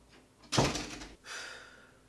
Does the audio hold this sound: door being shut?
yes